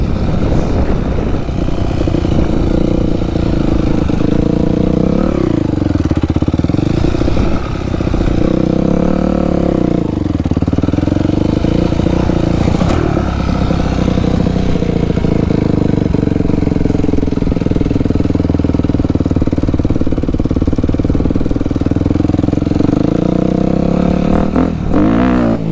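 A dirt bike engine running loud and close in a backyard, holding a rough steady idle with rising and falling revs and a brief sharp rev near the end.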